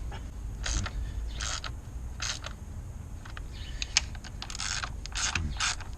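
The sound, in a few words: ratchet wrench clicking on car valve covers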